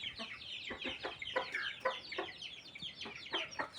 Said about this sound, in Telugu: ఇక్కడ నాటుకోళ్ళు ఉంటాయి.